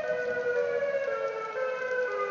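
A continuous, eerie siren wail from the Siren Head creature, SCP-6789, holds a steady drawn-out tone with slight wavering pitch, loud and unbroken throughout.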